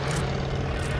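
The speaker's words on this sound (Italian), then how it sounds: "È un aereo!" Airplane flying overhead in the Call of Duty Vanguard video game, a steady loud droning engine roar that fills the brief moment with no voices over it.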